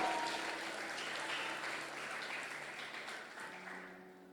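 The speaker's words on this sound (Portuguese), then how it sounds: "aplauda o Senhor bem forte" Church congregation applauding the Lord at a revival service, a sustained broad wash of clapping that fades slightly toward the end, with faint music tones underneath.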